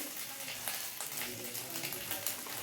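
Ground cumin, coriander, chili and turmeric sizzling in a pan with ginger and green chili, a continuous faint crackling hiss with light stirring throughout.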